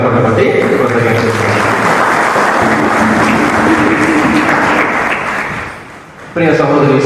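A congregation at a Telugu church service applauds loudly and steadily for several seconds. The clapping dips briefly near the end before a short burst of further sound.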